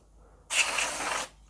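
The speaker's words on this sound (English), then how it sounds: "Spray of air to get rid of the dust." Compressed air sprayed in a burst to blow dust out of a gaming PC with a 1080 Ti graphics card, a close, loud steady hiss lasting under a second, alone.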